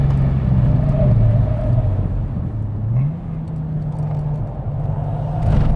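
A car braking hard on a race track on Goodyear Eagle F1 Supersport tyres, its loud, close engine drone falling in pitch, then levelling and rising again, with no talk.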